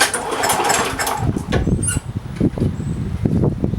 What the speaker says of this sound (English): I'm going to work it through your fuel system by priming it a couple times and actually pulling the rope to work it through